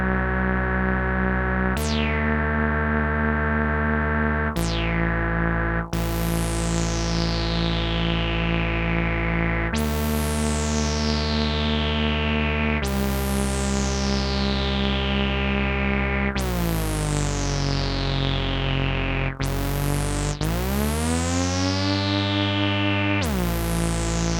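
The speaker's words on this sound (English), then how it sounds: "Let's flick the output of the LFO to a more standard sine wave." A bright, distorted tone from an E&MM Spectrum DIY synthesizer plays a run of sustained notes, each one decaying and sweeping, with a steady wobbling sine LFO modulation panning between left and right throughout.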